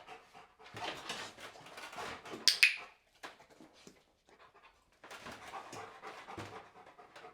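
A dog in a board-and-train session pants rapidly and close by in breathy bursts, with a brief pause in the middle before the panting resumes.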